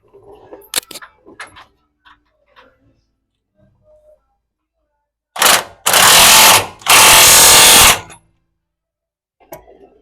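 Power tool bursts while cinching a nut on a 200 Series Toyota Land Cruiser leveling kit: two loud close whirring runs, the second longer, with scattered quiet clicks and handling noises before and after.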